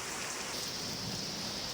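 Heavy nonstop rain pours in Karachi, a dense, steady hiss of downpour drumming on surfaces with no letup and no voices.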